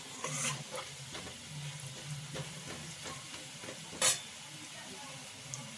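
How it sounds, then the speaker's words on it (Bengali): Potatoes frying in a pan for a vegetarian jackfruit curry, a soft steady sizzle with scattered scrapes and clinks of a utensil stirring against the pan, plus one sharp metallic knock partway through. "আলুটা অনেকটাই ভাজা ভাজা হয়ে গেছে"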